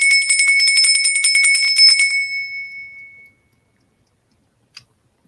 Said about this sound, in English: I always ring my little golden bell.